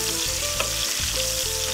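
Food frying over medium heat gives a steady, close sizzle with a bright broadband hiss that runs without a break, and soft stirring knocks come through at intervals.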